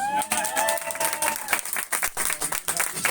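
Applause from a crowd at a municipal swimming pool in Esparreguera, a steady patter of many hands clapping, with a voice calling out briefly at the start.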